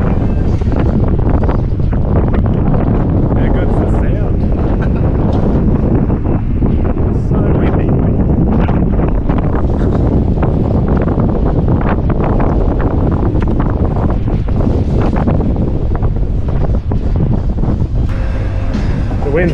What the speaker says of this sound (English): out onto the top deck, into the wind, nice